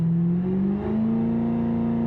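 A truck engine in a racing video game revs hard, a steady loud drone that climbs in pitch partway through and then holds at a higher, sustained whine.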